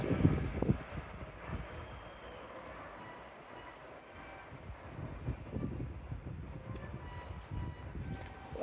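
Electric train running under power through Newark Northgate station, a steady rumbling roar with rail noise rising and falling, fairly close, with no talking.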